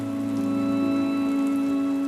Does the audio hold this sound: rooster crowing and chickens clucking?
no